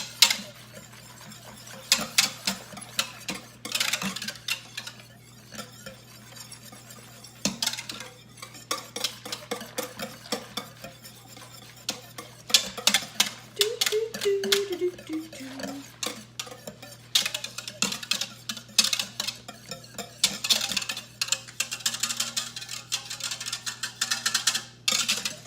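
A small whisk stirs homemade low-carb keto yogurt in a bowl, giving repeated close scraping and clinking against the bowl in uneven bursts, with brief pauses between.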